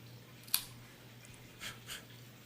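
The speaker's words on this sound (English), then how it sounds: "I am using the Cigarism hollow cut guillotine cutter." Cigarism hollow cut guillotine cutter snipping the cap of an Oscar 2012 Maduro Toro cigar, a single sharp faint click followed by a couple of soft rustles in a quiet room with low hum.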